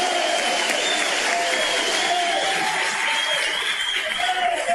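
An audience claps and cheers for a minister, Alexandre de Moraes, in a hall. The applause is loud and continuous, with faint laughter and crowd murmur mixed in.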